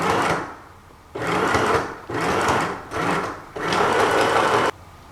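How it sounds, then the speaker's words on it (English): Sewing machine stitching a diagonal seam near a gown's hem, running in four loud, close bursts of steady whirring separated by short pauses. "We'll stitch diagonally from the pin to the point."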